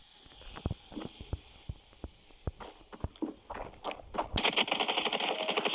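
Gunfire in the Standoff 2 shooter game, a quick run of sharp single shots with footstep-like taps between them, followed by a denser, louder burst near the end.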